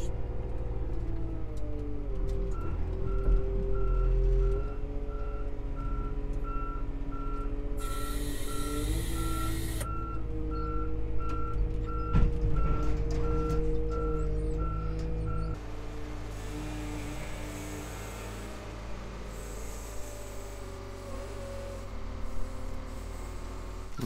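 Steady pulsing reverse alarm beeps from a dump truck in a salvage yard, loud and regular for much of the stretch, over a deep rumbling diesel engine idle that continues after the beeping stops; a brief hiss of air cuts in midway.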